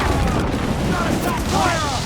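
Ship cannons fire in a naval battle in Assassin's Creed IV Black Flag, a dense, continuous booming barrage that fills the moment, loud and close with shouting voices over it.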